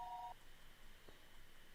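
Telephone being dialled late at night: faint, short electronic dial tones over a quiet hiss, with no talking.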